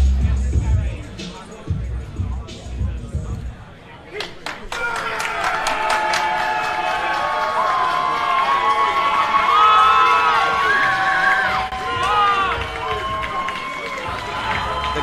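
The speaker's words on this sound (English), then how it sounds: "The crowd moving right now for Jonathan." An arena crowd at an MMA fight night cheers and roars loudly as a fighter walks to the cage for a vacant 145 title bout. The noise swells and holds steady with whoops and shouts, while a voice speaks faintly over it.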